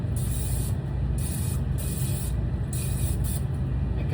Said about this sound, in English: Once I get these in, I give them another additional spray usually